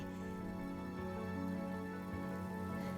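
Rain falling in the video game Honkai Star Rail, a steady dense hiss of drops under a sustained musical drone, continuous and even throughout, with no talking.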